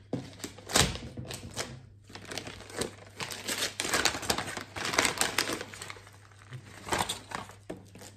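Gift package torn open by hand, wrapping paper crinkling and rustling close up in irregular bursts, with a faint steady hum underneath.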